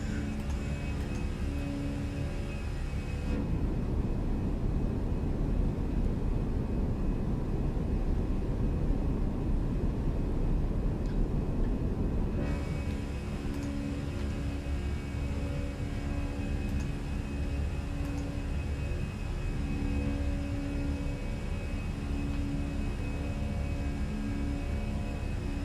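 Airbus A320 engines at climb thrust after takeoff, a steady broadband roar and rumble with tonal whine, heard from inside the aircraft. It lasts throughout, and the upper hiss drops away briefly partway through.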